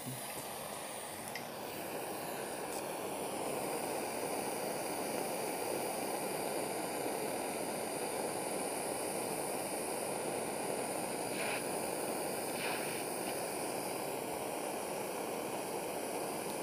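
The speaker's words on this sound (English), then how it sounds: "You got your blowtorch. Turn that flame down a bit more." A steady, broad roaring hiss of a blowtorch flame, continuous and close, with no voices.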